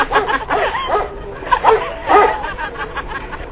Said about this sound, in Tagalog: Ano yung aso?